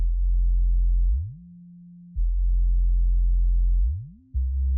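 A deep, heavy synth bass holding low notes, with pitch sliding up between them and brief dips in level, played alone.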